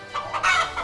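A hen gives a short burst of three or four quick clucks, close and fairly loud, with no talk over it.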